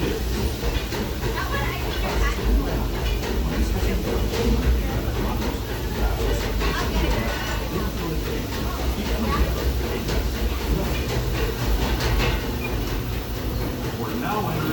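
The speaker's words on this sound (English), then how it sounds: "welcome aboard the Disneyland Railroad" The Disneyland Railroad train rolls steadily along its track, a continuous low rumble with faint wheel and car rattle heard from on board, with people talking over it.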